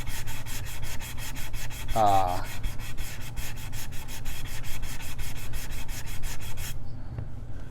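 Rapid rhythmic strokes of sandpaper rubbing back and forth on a primed guitar neck, close and steady, stopping abruptly near the end.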